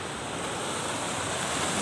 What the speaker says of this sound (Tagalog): Dito na alon.